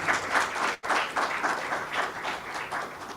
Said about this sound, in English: A big round of applause for our esteemed panelists